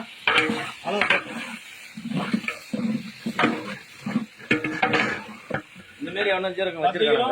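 Onions are stirred in a large pot for a 10 kg mutton biryani, with a ladle scraping and clanking and a sizzling sound from frying, while a person talks over the cooking throughout.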